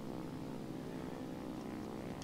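A German IL-2 aircraft's propeller engine in a 1942-era flight combat video game, a steady, loud, continuous droning hum with no break, heard alone.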